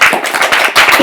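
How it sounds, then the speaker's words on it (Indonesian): Applause from a talk-show audience at an event about the Bujang Dayang Belitung Timur contest, a short close burst of dense claps lasting about a second. "Boleh dong tepuk tangannya, teman-teman."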